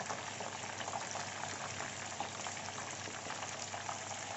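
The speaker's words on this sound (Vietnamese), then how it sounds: "Chiên con gà cho nó vàng rồi xong rồi mình mới bỏ vô nồi mình hầm nha các bạn." Pieces of bantam chicken fry in a pan until golden before being stewed, giving a faint, steady, even sizzle and bubbling throughout with no speech.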